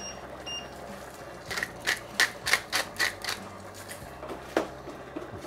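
A pepper mill grinds a little pepper over vegetables in a kitchen, giving a run of about ten crisp, rhythmic cracking clicks close by over a faint low background.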